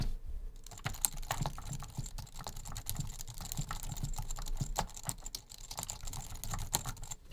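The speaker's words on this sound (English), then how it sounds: "Next up is a old Mac keyboard I had laying around," Typing on an old Mac keyboard with very quiet switches: a steady stream of soft, rapid key clicks, close and continuous, with no talking.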